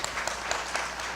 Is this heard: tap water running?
no